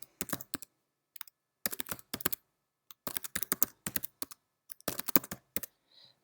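Someone types on a computer keyboard while entering pet details into a microchip transfer form, with quick bursts of crisp, close key clicks broken by short pauses.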